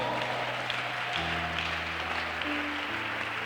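A church congregation claps steadily in a sustained wash of applause, with held keyboard or organ tones underneath, ending in a sudden louder burst.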